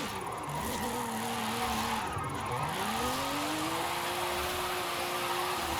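A budget-modded car drifts in Forza Horizon 5, its engine droning with pitch dipping and climbing as the revs shift, mixed with a steady tire hiss through the slide, continuous and mid-distance.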